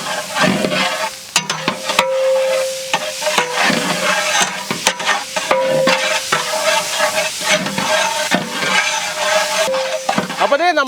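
Ginger, garlic, green chili, capsicum and chopped tomato fry in a pan for chicken samosa filling, a steady sizzle broken by repeated scraping stir strokes and clinks throughout.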